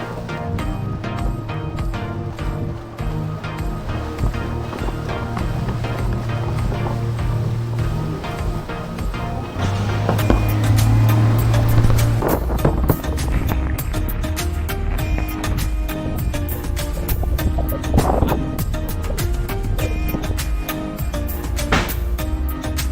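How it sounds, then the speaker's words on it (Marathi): A houseboat chugs slowly along the Kerala backwaters at Alleppey, its steady low engine drone and water wash running continuously, with a louder surge partway through. "स्लो चाललेली असते बोट सो हा आवाज येत असतो"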